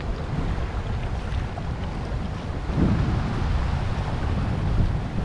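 Water rushes strongly over a flooded spot where it pushes up against a check dam, a dense, loud, unbroken roar with heavy wind buffeting the microphone and no voices.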